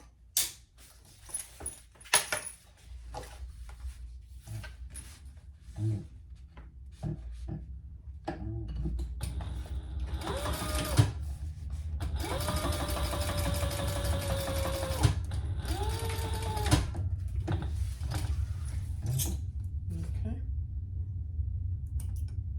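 Sewing machine top-stitching a leather waist pack, with scattered clicks and handling at first, then two sustained bursts of rapid needle hum close by, some talk mixed in.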